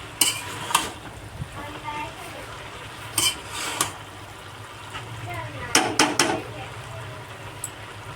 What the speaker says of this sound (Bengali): আবার একটু ঢাকা দিয়ে নেড়ে চেড়ে নিতে হবে।